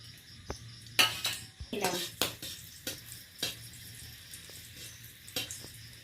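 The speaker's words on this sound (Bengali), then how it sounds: "এখন ফোড়নের জন্য আমি একটা শুকনো লঙ্কা দিয়ে দিলাম আর 2টো কাঁচা লঙ্কা গোটাই দিয়ে দিলাম।" Dried red chili and whole green chilies drop into hot oil for tempering while a Bengali egg posto dish is cooked, with the clatter of a spoon against the pan over a soft, intermittent sizzle.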